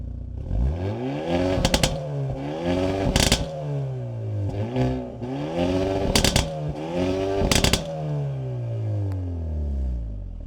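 A 2025 Hyundai Elantra N with a six-speed manual and dual exhaust revs repeatedly, engine pitch sweeping up and falling back several times with sharp crackling pops between the loud revs.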